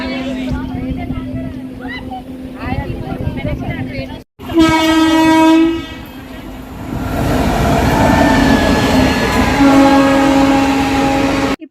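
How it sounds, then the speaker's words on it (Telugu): A train rumbles past at close range near village farms, its horn blaring in long loud blasts, with the roar of wheels and carriages continuing throughout. "ఇక్కడ ట్రైన్ వస్తుంది"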